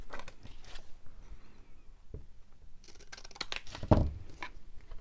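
A few short, crisp snips of scissors cutting paper, close by, with small rustles and one louder snip near the end.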